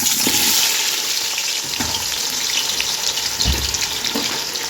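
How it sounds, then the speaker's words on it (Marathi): Chopped onion fries in hot oil with a loud, dense, continuous sizzle, close at hand, with occasional soft stirring clatters underneath. "कांदा चांगला तळून घेऊया"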